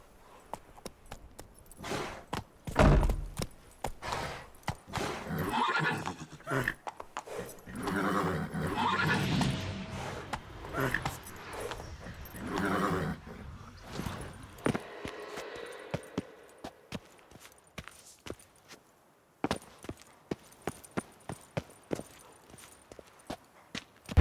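Roach, the horse in The Witcher 3 video game, gives a neigh early on, followed by rhythmic hoof clip-clops and scattered movement sounds at moderate loudness, with no talk.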